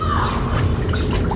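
Water from soaked clothes splashes and drips steadily into a basin during hand washing with fabric softener, a dense close wet patter throughout.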